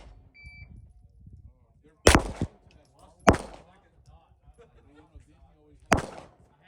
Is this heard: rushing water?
no